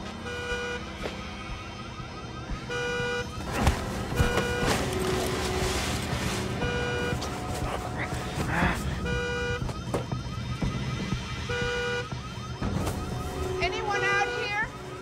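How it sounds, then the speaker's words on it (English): A car alarm blares in a movie scene, its repeating electronic tones cycling loudly and steadily throughout, with other scene sounds underneath. "Car alarms, am I right?"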